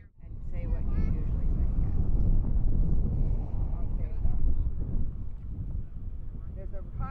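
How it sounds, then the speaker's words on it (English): Strong wind buffets the microphone in a continuous low roar at a coastal launch site, with a voice talking over it. "There's a high wind."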